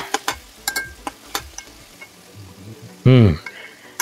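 Beef and onions for beef pastil in a pan, with scattered scrapes and clacks of stirring, then a loud hiss as the meat hits the hot oil near the end, close up.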